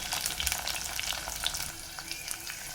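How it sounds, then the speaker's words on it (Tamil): Onions sautéing in a pan for garlic kuzhambu, a steady close sizzle with light scraping stirs, no voices. "வெங்காயமும் பாதி அளவுக்கு வதங்கட்டுங்க."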